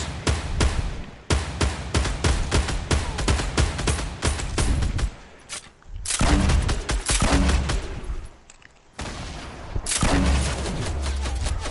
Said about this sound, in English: I'm getting shot by both of them, dude dang it